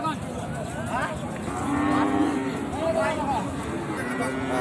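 Sahiwal and Gir cross cattle at a livestock market give several close, drawn-out moos, one after another, over a murmuring background of market voices.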